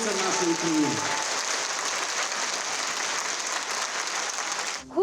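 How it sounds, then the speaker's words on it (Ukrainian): Concert hall audience in Dnipro breaking into stormy applause for a full house show, dense, loud sustained clapping that fades briefly before a sharp burst at the end. "Своїх улюбленців Дніпряни та гості міста зустріли бурхливими оплесками."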